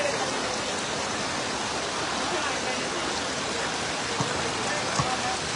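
Heavy rain pours down steadily in Losal, a dense, even hiss of water filling the scene close by, with no voices over it.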